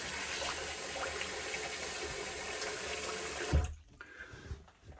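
Water runs steadily from a tap while shaving alum is rinsed off, a continuous splashing rush that cuts off abruptly near the end, leaving brief drips and handling sounds.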